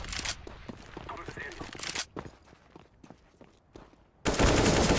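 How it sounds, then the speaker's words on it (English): Rapid rifle spray from an AK in the video game CS:GO, a loud burst of automatic gunfire bursting in near the end after quieter footsteps and game noise, with commentary talking over the earlier part. "Spots out Ostrich, is able to take him down with a nice little spray right there"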